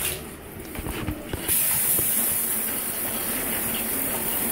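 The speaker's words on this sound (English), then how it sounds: "let's turn on the shower." A hotel bathroom shower bursts on partway through with a loud, steady hiss of spraying water, preceded by faint clunks and handling noises.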